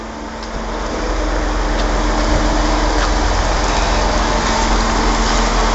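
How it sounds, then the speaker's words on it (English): Steady rain falls on a city street in Cottbus's Altmarkt, a constant broadband hiss joined by a low traffic rumble and a faint hum, with no talk. "I sure hope it stops raining sometime."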